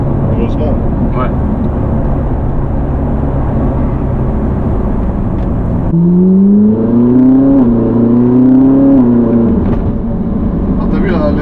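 A Ferrari 458 Italia engine under way on the road, a steady drone that rises into a sharper revving tone midway as the car accelerates, with people talking inside the cabin.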